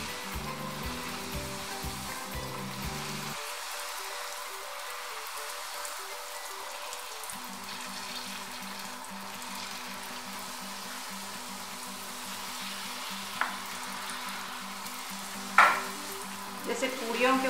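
Pani puri dough fries in hot oil with a steady, close sizzle and fine crackling throughout, broken near the end by a few louder knocks and stirring clatters.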